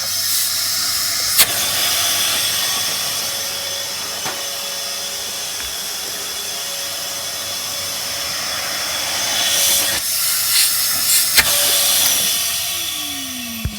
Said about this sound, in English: I can't flip and show you it vacuuming either because there's no bag on it